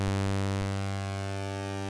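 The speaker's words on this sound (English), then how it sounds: "you hear this like reverb roomy effect if you raise the mix volume." A sustained synth tone from the Hive 2.1 software synthesizer rings out with a roomy reverb effect, a steady buzzy drone holding evenly for two seconds before cutting off.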